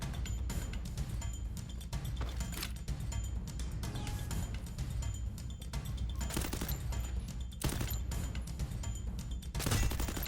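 Dense, rapid gunfire from the Free Fire video game in a lone-wolf mode where players share the same weapons, with sharp shots and bursts crackling almost continuously throughout.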